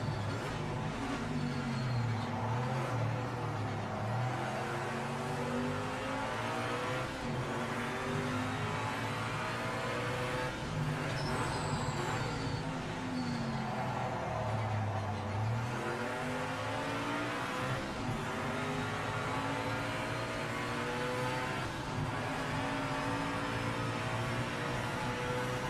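Race car engines in the video game Project Motor Racing, a continuous high-revving drone with repeated gear shifts and rising and falling pitch as the cars accelerate and brake around the circuit.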